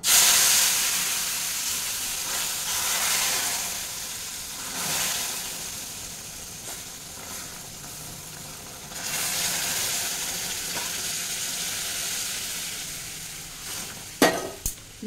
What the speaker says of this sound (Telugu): బాయిలింగ్ వాటర్ ఇక్కడ యాడ్ చేస్తున్నాను